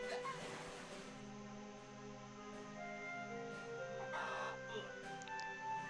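A chicken in the video game Monster Path clucks and crows in short bursts over a tonal, synthesized game backdrop, fairly quiet, with no talking.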